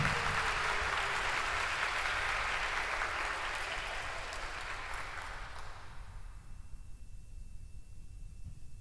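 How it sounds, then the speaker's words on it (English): A conference audience at a Web3 event in Miami applauds a speaker taking the stage, a broad wash of clapping that slowly fades away over about six seconds into quiet room noise. "Clap it up for him, clap it up for him."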